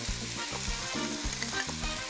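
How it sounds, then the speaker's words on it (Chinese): A seasoned vegetable spring roll filling with soy sauce, salt, pepper and sugar is stirred in a hot pan, giving a steady sizzle with rhythmic scraping strokes, close and loud, with no voices. "然后搅拌一下"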